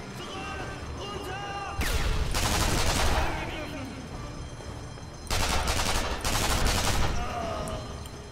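Sustained bursts of gunfire from the Sniper Elite V2 game, two loud volleys of rapid shots over a constant background of game ambience and music.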